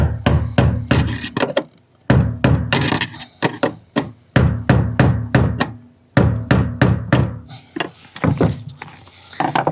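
An Audi S4 fuel sender retainer ring being knocked clockwise into place gives a string of sharp, close knocks and taps in quick uneven bursts, with short pauses between groups.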